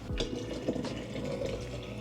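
Tumbled rocks are rinsed under running water at a sink, a steady close splash and trickle with a few brief clatters, no voices.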